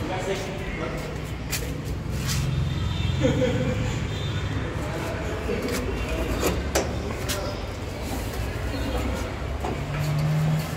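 An Iseki 3700 tractor idles with a steady low diesel rumble close by, continuous under someone talking throughout with occasional clanks.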